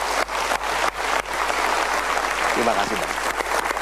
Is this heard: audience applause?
yes